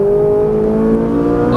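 A Ferrari 458 Italia at full throttle on a track in Las Vegas, its engine note climbing steadily in pitch as it pulls hard, loud and close.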